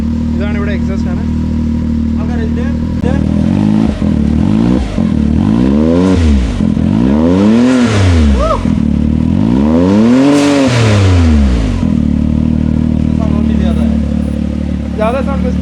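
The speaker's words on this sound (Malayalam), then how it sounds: "നമുക്ക് ഇതിന്റെ സൗണ്ട് എക്സോസ്റ്റ് നോട്ട് കേൾക്കാം." Supercar exhaust revving inside a garage, several loud rising-and-falling throttle blips in a row over steady idle, close by, with people talking around it.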